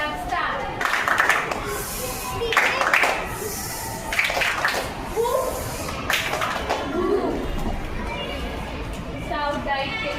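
A group of Bharat Scouts and Guides schoolchildren claps in unison a few times in sharp bursts outdoors, with children's voices and chatter around the claps.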